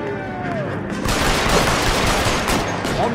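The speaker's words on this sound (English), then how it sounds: "There are guns to be shot." Rapid gunfire in the L.A. Noire video game, a dense burst of repeated shots and booms that grows louder after the first second and runs continuously to the end.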